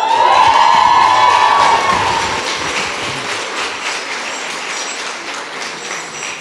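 An audience at a White House Native American Heritage Month event breaks into loud applause and cheering, a whistle or shrill cheer rising early, then the crowd noise gradually fades.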